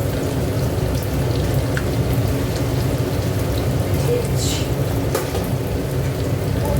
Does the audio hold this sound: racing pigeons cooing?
no